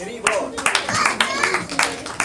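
A small audience applauds the kids at a Srimad Bhagavatham session in a cultural center, with steady close clapping from many hands and a few sharper individual claps standing out throughout.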